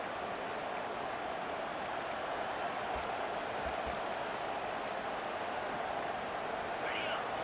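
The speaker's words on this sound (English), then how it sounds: "listen to this crowd noise. This stadium is vibrating." A packed college football stadium crowd at a Nebraska versus Alabama game roars in a dense, continuous wash of noise, loud and unbroken, with voices mixed in.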